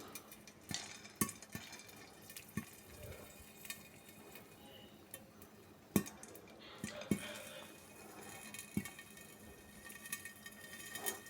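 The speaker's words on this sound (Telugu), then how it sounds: "లోపల పేలాలు ఇప్పుడే స్టార్ట్ అయ్యాయి" Puffed grains heating in a covered pan begin to pop and crackle, with scattered sharp ticks and faint scraping of stirring over a low kitchen background, quiet and close.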